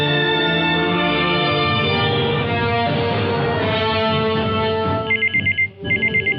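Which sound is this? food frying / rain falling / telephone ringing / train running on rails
telephone ringing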